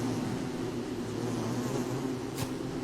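Steady swarm of bees buzzing in Don't Starve Together, a continuous low drone with a faint whoosh near the end and no talking.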